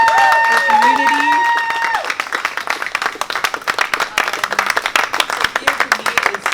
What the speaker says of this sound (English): let's applaud for Sophia, her spirit, her work, her community